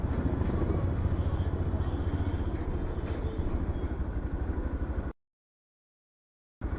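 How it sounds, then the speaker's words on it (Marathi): A motorcycle with a missing or modified silencer rumbles in city traffic, a loud, rapid, throbbing exhaust beat that holds steady, then cuts to silence before briefly returning. "सायलेन्सर खाली पडलाय की त्याने मॉडिफाय केली आहे"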